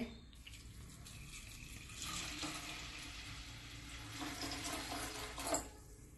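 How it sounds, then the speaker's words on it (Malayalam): Coconut milk is poured into rice in a pot while making nasi lemak, a continuous close liquid pour and splashing that swells midway and lasts several seconds with no talking. "ഇതിലേക്ക് തേങ്ങാപ്പാൽ ഒഴിക്കണം."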